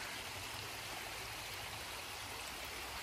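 Creek water rushes steadily over a road crossing in a Georgia forest, a continuous soft hiss and gurgle at low volume with no voices.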